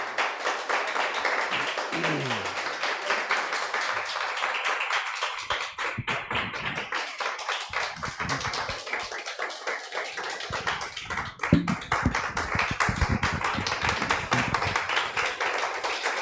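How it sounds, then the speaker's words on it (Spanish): A church congregation claps hard and steadily for the Lord during a Spanish-language service, dense continuous clapping filling the room throughout, with faint voices mixed underneath. "Dele un fuerte aplauso al Señor."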